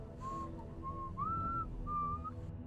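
A video-game whistle from the point-and-click adventure Limbo of the Lost: a few clear, steady whistled tones, the middle one sliding upward, over a quiet low background hum, with no talking.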